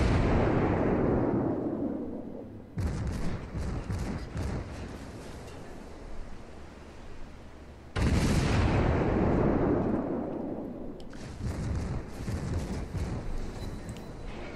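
Russian cruiser Murmansk's guns fire in the naval game World of Warships: three deep, thunderous salvos, each a sudden loud blast trailing into a rumbling roar that fades between shots, with no voices.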